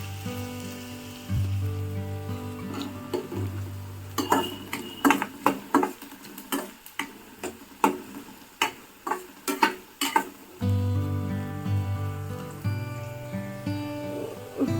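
Chilies fry in a pan over a constant sizzle while a spatula stirs them, clinking against the metal in a run of irregular taps before the sizzle continues alone.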